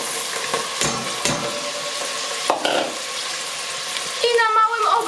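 Onion sautéing gently in a pan on low heat, a soft steady sizzle with a few scraping stirs and clatters, brief watery splashing near the end.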